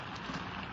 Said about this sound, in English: Hurry up. Don't let all the rain in.